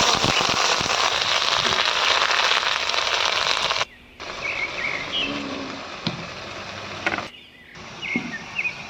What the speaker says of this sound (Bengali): এবার ফোড়নের জন্য দিয়ে দিচ্ছি প্রথমে চিড়ে আর রাঁধুনি আর দিয়ে দেব দুটো শুকনো লঙ্কা আর দিয়ে দিচ্ছি দুটো তেজপাতা রসুন কুচি